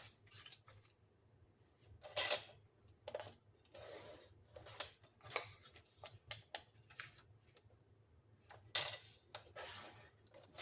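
Scrapbooking paper being cut with quiet, short snips and rustles at irregular intervals, close and faint against a low background hum.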